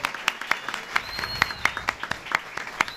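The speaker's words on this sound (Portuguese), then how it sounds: "a quem eu peço uma salva de palmas" A small audience claps for the apprentices at a professional-education committee session, scattered, moderately loud hand claps forming a steady patter for a few seconds.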